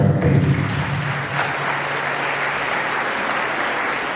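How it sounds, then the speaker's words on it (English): Sustained applause from a crowd at a youth awards ceremony, steady clapping that fills the room for several seconds. "let's give you a warm round of applause to all the winners"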